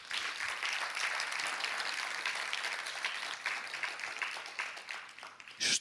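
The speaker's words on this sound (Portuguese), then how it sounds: "Quem crê, dê um aplauso bem forte ao Senhor" Church congregation clapping and applauding during a Portuguese-language sermon, a steady dense wash of handclaps sustained throughout, fairly distant and even, with a brief louder swell at the very end.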